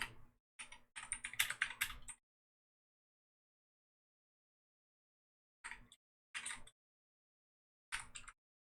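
Keyboard keys pressed in quick bursts of clicky typing, a dense flurry at first, then a long silence and a few short, isolated clusters of taps, faint and close.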